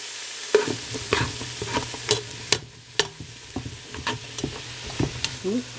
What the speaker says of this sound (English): a whole onion, 2 carrots, and 3 celery. And let that saute for a few minutes.